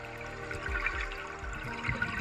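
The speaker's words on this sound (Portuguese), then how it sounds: "Todos os barulhos que você está escutando agora são das bolhas da respiração do circuito aberto." Exhaled bubbles from an open-circuit scuba diver breathing underwater burst and gurgle in low, rolling pulses a few times a second, close and continuous.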